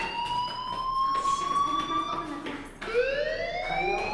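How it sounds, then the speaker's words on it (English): A fire alarm rings in the game Life is Strange, a steady electronic tone with harmonics that holds, dips briefly near the end, then resumes, with faint background sounds beneath it. "do you hear that fire alarm? That means you should be outside."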